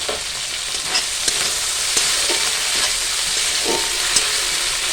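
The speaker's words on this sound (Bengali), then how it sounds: "এবার এইগুলোকে ভালো করে ভেজে নেব" Dried fish frying in plenty of hot oil, a loud, dense, continuous sizzle heard up close with faint occasional stirring knocks.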